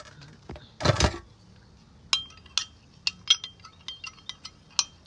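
A spoon stirs a gelatinous drink in a glass, giving a run of sharp, close clinks against the glass at an uneven rhythm after a brief rustle at the start.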